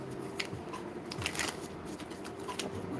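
Tarot cards are shuffled by hand in quick repeated riffles and soft papery slaps, close and fairly quiet, with no talking.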